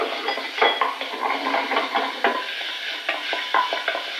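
Ground meat stir-fries in a pan with vegetables such as cucumber for potato croquettes, a steady sizzle broken by scraping and clinking of a utensil against the pan, close up with no talking.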